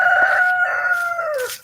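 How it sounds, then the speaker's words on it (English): A Buff Orpington rooster gives one close, clear crow lasting over a second, with a drawn-out tone that falls in pitch at the end. "And then Jaxson just crowed."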